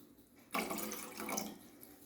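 Water runs from a tap into a container for jelly in a fruit trifle, starting abruptly after a brief quiet and continuing as a close, steady splashing stream.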